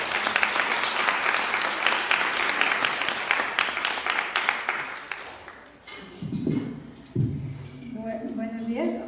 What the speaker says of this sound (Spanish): démosle un aplauso a nuestra compañera Bettina